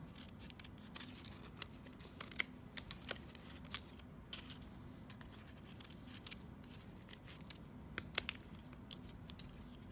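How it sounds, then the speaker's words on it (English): Scissors snip through paper while cutting a teardrop shape and trimming edges, giving a series of short, faint crisp clicks and crunches scattered irregularly over low steady background noise, with no talking. "I can cut, let's see, kind of a teardrop shape in there. Or I can cut the edges off."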